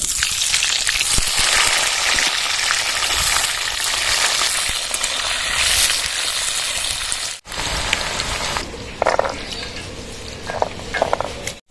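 Potato pieces fry in mustard oil in a wok, giving a loud, dense, rain-like sizzle that cuts off briefly and returns a little quieter with a few stirring scrapes.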